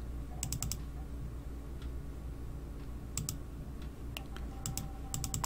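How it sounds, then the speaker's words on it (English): Computer mouse clicking in quick bursts of two to four sharp clicks, repeated at intervals over steady low background hum, close and fairly faint. "I'm clicking away and nothing's happening."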